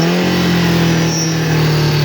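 A Russian piling machine's engine revs under added throttle, a loud, steady, close mechanical drone holding a constant pitch with slight surging throughout.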